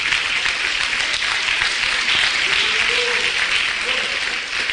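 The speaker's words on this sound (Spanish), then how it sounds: "Fuerte los aplausos para Cristo." Loud, continuous applause from a church congregation, a dense crowd of clapping hands, with a few voices calling out faintly beneath it.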